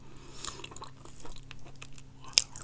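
Close-miked chewing of a salty marshmallow cookie, with soft sticky mouth sounds, faint crunches and one sharp click near the end, heard with no talk.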